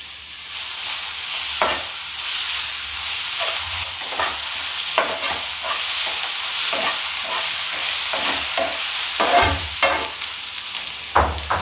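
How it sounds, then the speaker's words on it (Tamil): Ginger-garlic paste masala sautéing in a pan for mushroom gravy, with a loud, steady sizzle under repeated scraping stir strokes, close up and without talking. "இஞ்சி அரைச்சி வச்ச பேஸ்ட்டு, பூண்டு பேஸ்ட்டு, நல்லா மசாலா பச்சை வாசம் போக நல்லா வணக்கிட்டு"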